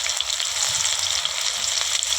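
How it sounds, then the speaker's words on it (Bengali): Chopped onions frying in white cooking oil in a wok over a wood-fired stove, giving a loud, dense, steady hiss of sizzling up close, heard alone without talk. "তো দেখো প্রথমে পেঁয়াজ কুচিগুলো দিয়ে দিলাম"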